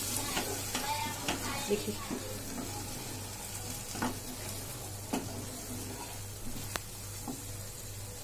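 Spices and peas for dhaba-style matar paneer frying in a pan, a continuous soft sizzle with repeated sharp scrapes and clicks of a spoon stirring against the metal, while a voice speaks briefly.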